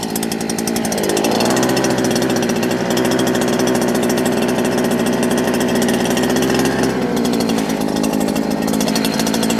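A BU-KO petrol multi-tool engine runs steadily after starting, its high buzzing two-stroke drone rising briefly as it revs up near the start, then holding loud and close throughout with no talk.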